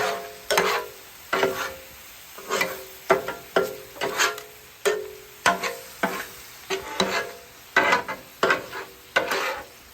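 Orange chicken being tossed with peppers and onions on a hot griddle, a repeated rhythm of scraping, clacking spatula strokes over a steady sizzle, fairly close with no talk.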